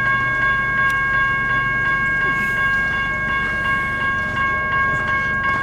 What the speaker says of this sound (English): We got a train with a whole lot of power coming here.